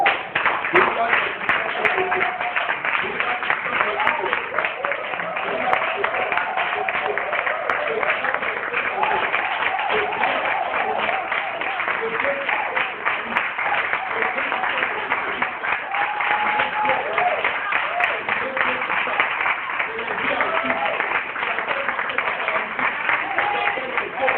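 A church congregation claps and cheers in praise to God, a dense, steady wash of applause and crowd voices running throughout without pause.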